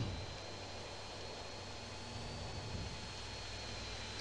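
A stolen fighter jet flies low in the mobile version of the video game GTA San Andreas, its engine a steady, even roar that continues unbroken.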